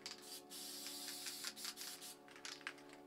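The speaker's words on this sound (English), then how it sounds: "I'm going to gather blue and then spray around these lid stencils" A spray paint can hisses steadily around lid stencils, a close, continuous airy spray with slight pulses as the cap is pressed, lasting about three seconds.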